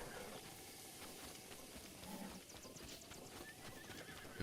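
A horse in Zelda: Breath of the Wild whinnies and its hooves clip-clop softly in the game, faint and low under a hissing background, with no voices.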